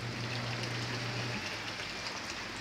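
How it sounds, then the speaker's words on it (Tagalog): Heavy rain pours down as a steady, dense hiss that fills the whole stretch, with a low hum under the first half. "Hindi na to ambon, ulan na talaga."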